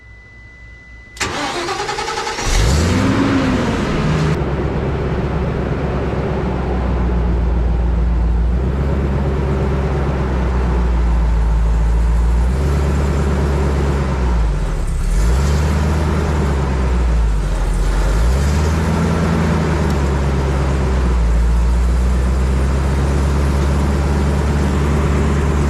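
A Bandit 15XP wood chipper's engine cranks, catches and settles into a loud, close roar with the clutch engaged and the drum spinning empty. The steady drone rises and dips in slow, repeating surges.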